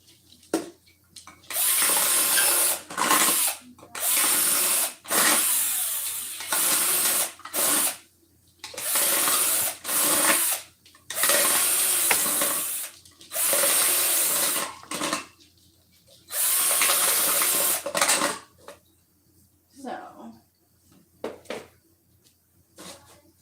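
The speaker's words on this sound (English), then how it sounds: "and a drill to drill the holes in." A power drill bores holes in plastic cups in repeated bursts of a few seconds each, separated by short pauses, loud and close, growing shorter and fainter near the end.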